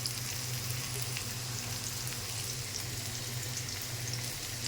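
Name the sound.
potatoes frying in hot oil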